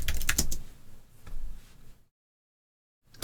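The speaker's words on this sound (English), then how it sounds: "So let's type in welcome as well." A burst of close computer keyboard typing, quick irregular key clicks for about two seconds, then a short silence and one last faint click.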